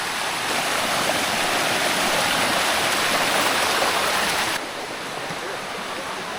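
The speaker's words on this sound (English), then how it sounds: "I think we've made it to the main waterfall." A waterfall in Thailand roars with a steady broadband rush of falling water, loud and constant, dropping slightly in level partway through.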